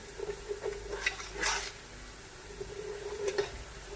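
Onions frying in a pan while cooking aloo gobi, giving a low steady sizzle with scattered stirring clinks and scrapes of a utensil against the pan, close and fairly quiet, with no talking.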